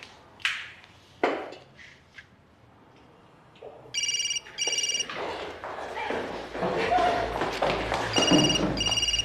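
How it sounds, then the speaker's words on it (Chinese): A telephone rings in a tense crime-drama scene. Two bursts of bright electronic ringing cut in over scattered background sounds and movement. "接电话"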